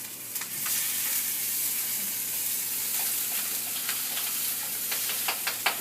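A thin slice of chicken fries in a pan, giving a steady bright sizzle throughout with scattered crackles and pops, fairly close and without any talk.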